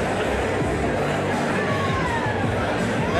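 Dense crowd hubbub at a live fight event, steady murmuring and chatter with scattered cheers filling the space throughout.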